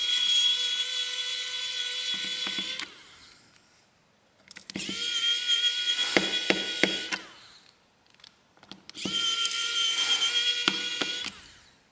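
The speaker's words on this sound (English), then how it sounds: "Take all the screws out next." An electric screwdriver whines in three long bursts, removing screws from a Cricket Icon Pro phone (SN512C) during a teardown, loud and close with short pauses between bursts.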